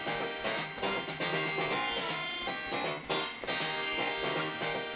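Sonic video game music arranged with crunchy Mega Drive sound fonts, dense, bright synth chords and a driving beat playing continuously and fairly loud, with no voices.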